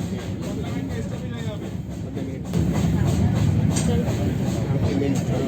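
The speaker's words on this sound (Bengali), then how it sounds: "এই ট্রেনটা দার্জিলিং স্টেশন থেকে ছেড়ে আমাদের নিয়ে যাবে ফেমাস বাতাসিয়া লুপে" The Darjeeling toy train pulls out of Darjeeling station bound for Batasia Loop, a continuous rumbling, rattling rail noise that grows louder partway through, with faint voices in the background.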